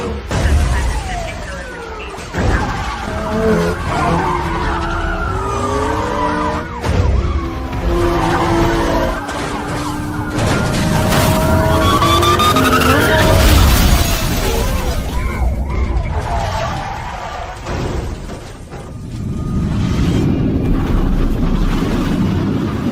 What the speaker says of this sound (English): I've got visual on the black Lamborghini joining the pursuit.